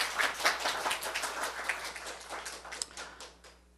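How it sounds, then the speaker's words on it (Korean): A church congregation claps after a Sunday sermon, a broad patter of many hands that swells early and gradually thins out toward the end, with no voices over it. "우리 하나님께 박수 주세요"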